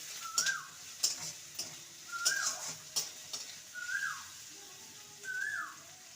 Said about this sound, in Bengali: ভালো করে নেড়ে দেবো যাতে করে আদা রসুনের গন্ধটা ভালো মতন চলে যায়